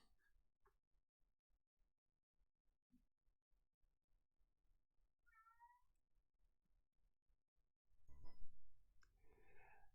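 Cats meow in a room, several clear high calls including a loud, drawn-out one near the end, over a steady series of quiet rhythmic clicks.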